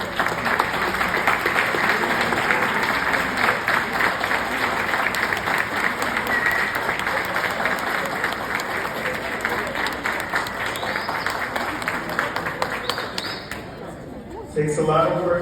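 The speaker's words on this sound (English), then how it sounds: "give them a round of applause" An audience at a 2023 Teaneck High School award ceremony gives the standing staff and principal a sustained round of applause, loud and steady throughout, with voices mixed in and tapering near the end.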